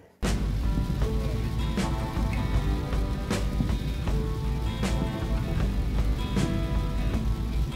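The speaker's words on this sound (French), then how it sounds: "comme vous avez pu voir dans la vidéo, de la pluie" Steady rain pours down throughout, a dense continuous wash of patter with occasional sharper drips and knocks standing out, loud and close with no voices.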